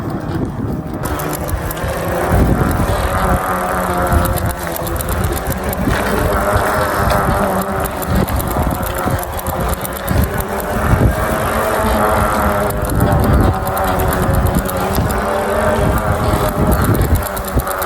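Bicycle rolling along a concrete road with slightly underinflated tyres, a loud continuous rumble and wind-buffeted road noise heard close throughout, steady with small bumps.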